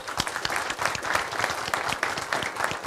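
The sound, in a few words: applause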